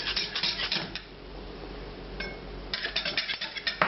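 A whisk clinks and scrapes against a metal pan while green peppercorn béarnaise sauce is beaten, with bursts of rapid rattling at the start and end and a quieter pause in between.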